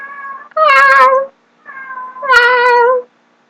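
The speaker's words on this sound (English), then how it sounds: "Oh, here's a cat. Can you hear him?" A black cat out in the rain gives two loud, drawn-out meows close by, each opening with a softer murmur before swelling, separated by a short pause.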